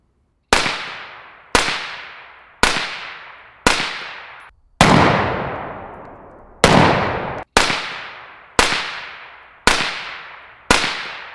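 An AR rifle fitted with a Black Anchor Tactical Nautilus 556 suppressor fires about ten loud, sharp shots at a steady, unhurried pace. Each crack trails off in a brief decay, and one shot rings out with a longer tail.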